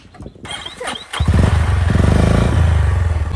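A motorcycle starts with a thump and clatter, then its engine runs loudly with a steady throbbing rumble, close by, after a few faint bird-like chirps, with no talk.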